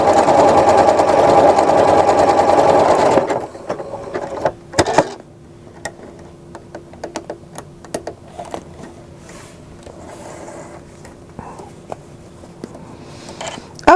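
A sewing machine stitching a decorative star pattern, a loud steady close whir for about three seconds, then it stops, followed by quiet handling clicks and a low hum.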